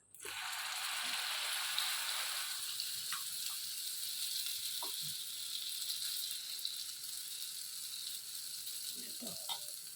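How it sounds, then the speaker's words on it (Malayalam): Dosa batter frying in an oiled pan on a stovetop, a loud bright sizzle that bursts in and holds steady throughout, with a few faint clicks and scrapes beneath it. "എണ്ണ ഒഴിച്ചിട്ടുണ്ട് പാത്രത്തിൽ ഇനി നമുക്ക് അടുത്ത ദോശ ഉണ്ടാക്കാം"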